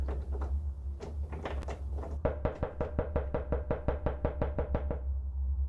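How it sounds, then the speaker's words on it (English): Someone knocks on a front door at night, first a scattered few raps, then a long rapid series of even, hard knocks close by, over a steady low hum. "The sounds of someone or something knocking on Nat's front door can be heard"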